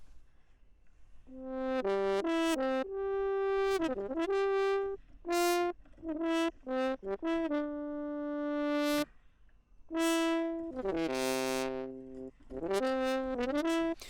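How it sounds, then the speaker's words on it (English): Unprocessed Sample Modeling brass virtual instrument playing short and sustained notes in broken phrases with brief pauses, bright and upfront, with nothing else in the mix. "Sample modeling brass."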